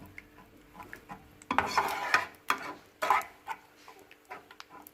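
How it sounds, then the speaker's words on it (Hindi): A spoon stirs a peanut chikki mixture with ghee in a pan on the stove, giving soft intermittent scraping strokes that grow louder in the middle, close by with no talking. "और इसको मिक्स करेंगे अच्छी तरह से। बस इसको मिक्स होने तक जो है हम इसको चूल्हे पे रखेंगे"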